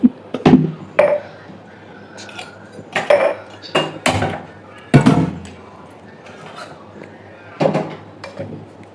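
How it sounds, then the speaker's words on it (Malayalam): A pressure cooker is set onto a stovetop for making pongal, giving several sharp metallic clanks and knocks of pots and utensils, close by, with quiet gaps between. "നമുക്ക് കുക്കർ വെച്ചു."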